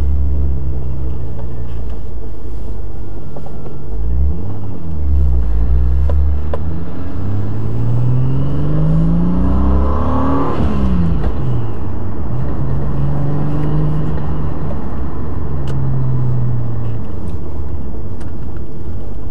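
A 600 hp Lexus GS300 with a 2JZ-GTE engine and six-speed manual is driven, its engine droning loudly and rising and falling through gear changes and revs, close and continuous with no talking.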